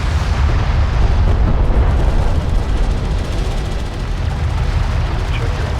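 Loud, continuous battle noise from the real-time strategy game Homeworld: Deserts of Kharak, with dense gunfire and explosions blending into an unbroken roaring wall of sound that persists from start to finish.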